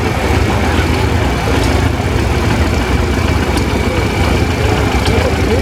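A Massey Harris Pacemaker tractor engine idles steadily at an outdoor steam and gas engine show, a constant low rumble with a faint chatter of distant voices in the background.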